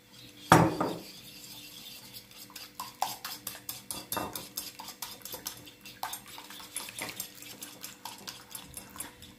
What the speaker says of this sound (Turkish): İyicene çırpıyorum dostlar